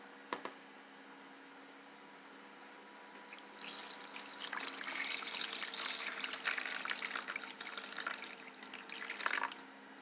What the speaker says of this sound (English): I am going to pour this in here.